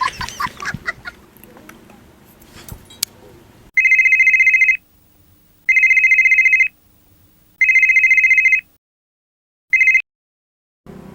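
A phone call ringing tone, preceded by brief rustling, sounds as four evenly spaced electronic ring bursts, the last one cut short, clear and loud with silent gaps between them.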